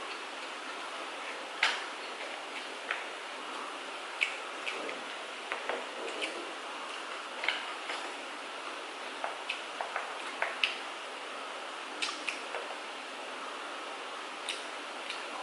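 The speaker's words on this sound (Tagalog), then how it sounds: "Baka naririnig nyo na naman po yung tunog ng ulan." Rain falling outside during a home meal, heard as a steady broadband hiss with scattered sharp drips and ticks throughout, with no talking over it.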